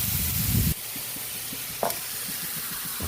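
Chicken for tinolang manok sizzles hard in a hot pan as it goes in. A loud burst of frying comes first, then it settles into a softer crackle with stirring and a clink.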